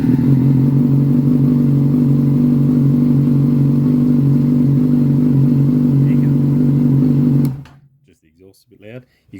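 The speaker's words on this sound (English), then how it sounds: "So now we've got to start the engine." A 2008 Yamaha FZ6N motorcycle engine idles loud and close with a steady low hum and clatter, then cuts off abruptly near the end, leaving a quiet space with a few faint sounds.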